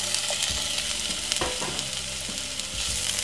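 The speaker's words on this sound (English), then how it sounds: "all I'm gonna do is simple add my frankfurter to it just like this" Frankfurters fry in hot oil in a pan, giving a steady loud sizzle with soft clinks and stirring knocks at intervals, and no voices.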